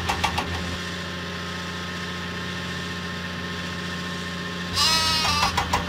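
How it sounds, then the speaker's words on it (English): A cartoon sheep bleats in a Thomas and Friends video game, a short bleat near the end over a steady engine-like background hum and music. "Help Cranky find the sheep."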